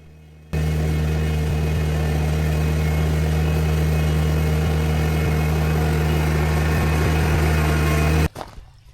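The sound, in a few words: small tractor engine running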